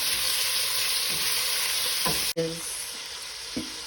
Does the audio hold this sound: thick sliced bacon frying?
yes